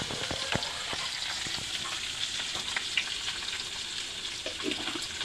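Kilimeen fish fries in hot oil, a dense, steady sizzle sprinkled with sharp crackles and pops close by, with no talking.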